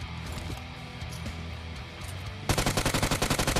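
A powerful weapon in PUBG Mobile fires a rapid burst of automatic shots after a stretch of quieter game noise, loud and close, in an even, fast rhythm.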